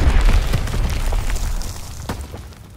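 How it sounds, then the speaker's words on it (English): Mortar rounds explode in a World War II battle in Call of Duty WW2: loud, deep booms rumble and roll on, with a sharper burst near the end. "Sending mortar rounds!"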